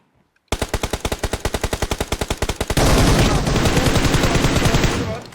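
Automatic gunfire in a video game shootout: a long burst of evenly spaced sharp shots, then a denser, continuous roar of overlapping fire, loud and close.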